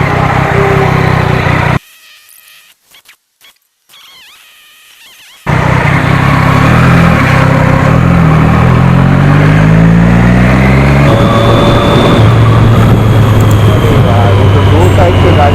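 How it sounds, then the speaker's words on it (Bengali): On a superbike ride along a road, engine and wind roar loudly with passing vehicles rising and falling around it, broken by a few seconds of near silence, while a person talks throughout. "दो साइड से गाड़ी आ रही है"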